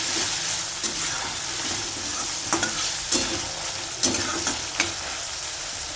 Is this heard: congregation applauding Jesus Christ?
no